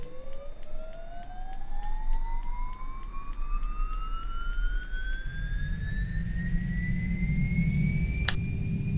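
A Beechcraft 1900D left turboprop engine starting in the X-Plane 11 flight simulator: a rising turbine whine climbs steadily in pitch over a series of regular ignition ticks, joined later by a deeper steady roar, loud and close with no voices.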